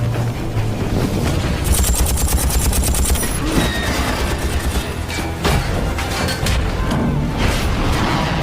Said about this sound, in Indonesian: Dia menembaki para teroris dengan senjata api.